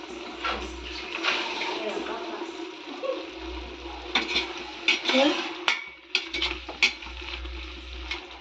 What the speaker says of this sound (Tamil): இப்போ நம்ம வந்து காளான் சேர்த்துக்கலாம்